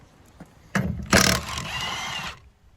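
A pneumatic impact gun with a Milwaukee deep impact socket rattles briefly on tight 24mm van wheel nuts, a loud burst of hammering that eases into a sustained whir before stopping, with no talking.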